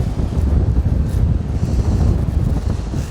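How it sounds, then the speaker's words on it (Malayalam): Strong gusting wind buffets the microphone on a coastal beach in the Peninsula of Sinis, Sardinia, a loud continuous roar with a faint wash of surf beneath and no talk. "നല്ല കാറ്റും ഇന്ന് തിരക്ക് നല്ല ശക്തിയുണ്ട്"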